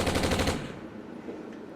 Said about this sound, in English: Did you hear the gunshots?